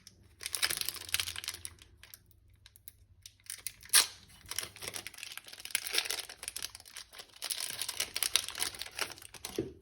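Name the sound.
opening a crinkly Pokémon booster card pack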